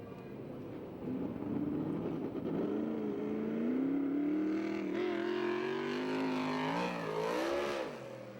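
A USAC/CRA sprint car engine roars on the Hanford, California race track, rising in pitch as it accelerates and sweeping through gear changes, loud and sustained for several seconds before fading slightly.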